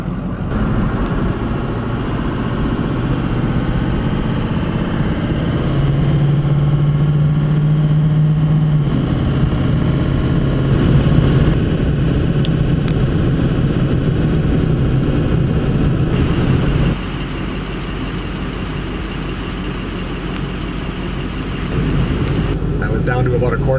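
A Farmall M tractor runs on a snowy day, its engine a loud, steady low rumble up close that shifts in pitch and load midway and drops slightly near the end, with speech heard over it.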